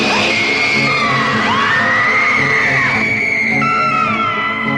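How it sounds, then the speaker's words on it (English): A loud, sustained high-pitched scream rises and wavers over a dense, noisy background, with shrill cries overlapping throughout. "Did I hear somebody scream?"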